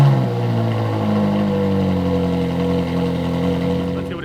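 A Ferrari 458 fitted with a Capristo exhaust idles loudly and steadily up close, its deep, even engine drone holding throughout with slight swells in tone.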